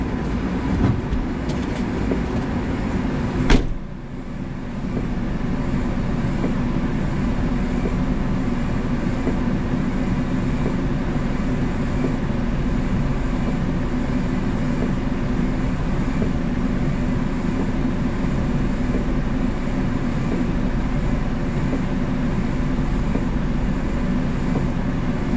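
A truck idles and rolls on an icy Texas ranch during a snow storm, a steady low engine rumble that stays constant throughout, with a short sharp clunk near the start.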